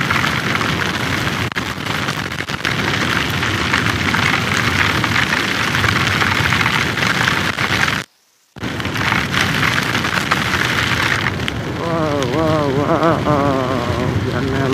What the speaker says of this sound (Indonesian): Wow, hujannya lumayan.